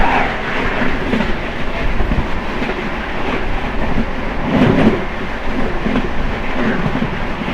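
A Sealdah–Benaras Amrit Bharat Express train runs at about 130 km/h, heard from on board as a loud, steady rumble with rhythmic clickety-clack of wheels over rail joints and a brief surge near the middle.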